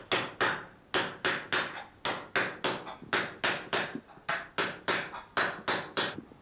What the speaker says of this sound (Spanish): estábamos trabajando con un martillo de acero sobre una matriz de acero